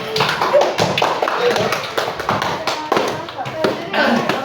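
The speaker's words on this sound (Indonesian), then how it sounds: "Tepuk tangan dulu untuk kelompok." A primary school class claps together in a quick, uneven patter of hand taps, fairly close, with voices talking over the applause.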